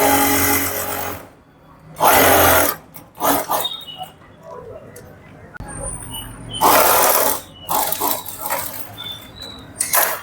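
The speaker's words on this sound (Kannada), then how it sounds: "ಇವಾಗ ಇಟ್ಕೊಂಡು ಸ್ಟ್ರೈಟ್ ಸ್ಟಿಚ್ ಹಾಕೋದಷ್ಟೇ" A sewing machine runs straight stitches on a blouse in short bursts of loud, even whirring, separated by quiet pauses. Someone talks between the runs.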